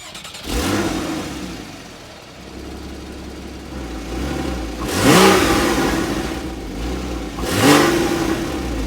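A 2016 Porsche Boxster engine revs up in several bursts, roaring louder each time before settling back to a low idle rumble, close by with no talking.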